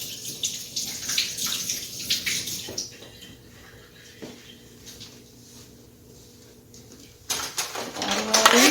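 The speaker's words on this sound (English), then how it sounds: "Wash my hands." A kitchen tap runs while hands are washed, a steady broadband water rush with splashing that thins out briefly, then swells louder again near the end.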